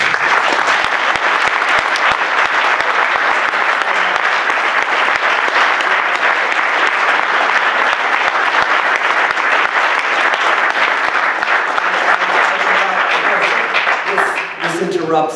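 Enthusiastic audience applause welcoming Tariq Ali to a talk on 1968, a dense, steady wash of many hands clapping for about fifteen seconds, loud and sustained before tapering slightly at the end.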